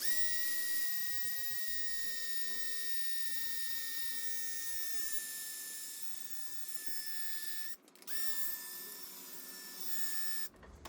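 An electric drill whines steadily at a high pitch priming the oil pump on a rebuilt 5.9 Cummins engine, running continuously with two brief dips in speed.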